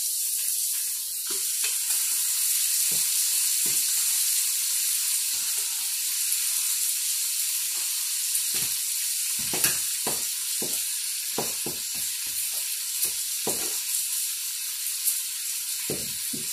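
Onions and peppers fry in a pot with a bright, steady hissing sizzle and repeated spatula knocks and scrapes, close and without voices.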